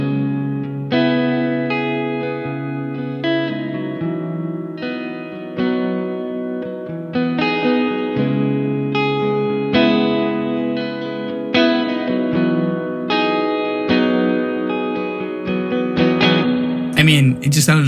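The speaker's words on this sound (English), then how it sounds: "let's turn this reverb all the way up so that we can actually hear what it does" Electric guitar through a Dr. Z MAZ18 Jr amplifier with its reverb at maximum, playing sustained, lightly overdriven chords and arpeggios that bloom into a wash of lingering reverb tails, steady and loud, with a brief brighter burst at the very end.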